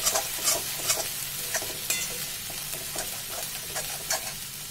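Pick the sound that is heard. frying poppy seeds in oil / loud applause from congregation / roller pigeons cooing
frying poppy seeds in oil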